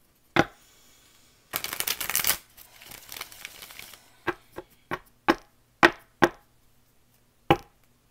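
A deck of cards riffled and bridged once in a long rustling burst, followed by several sharp single taps and snaps spaced out, close and fairly loud.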